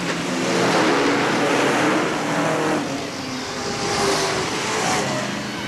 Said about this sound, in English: Danny Scheffler nails down tonight's semi-feature for the Sportsman machines.